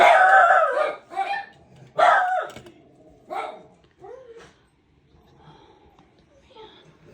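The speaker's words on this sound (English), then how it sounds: "Dogs." A dog barks in several loud, sharp bursts close by, then fainter yelps and whimpers trail off.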